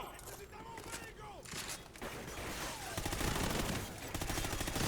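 Gunfire in the Call of Duty: Ghosts campaign builds into dense, rapid automatic bursts that grow louder toward the end, mixed with game voices and effects.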